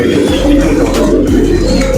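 Pigeons cooing in a loft, a loud, close, continuous low throaty cooing.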